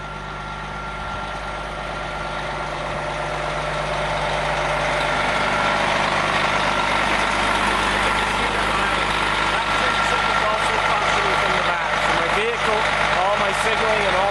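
A Prevost H3-45 bus engine holds a fast idle, a loud continuous low rumble with a steady hum, swelling slightly early on while a voice speaks over it.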